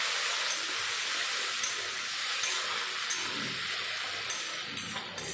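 A splash of water hits fried onions in a hot pan and sets off a loud, bright hiss of steam and sizzle that holds steady and close, with faint clicks of stirring and no talking.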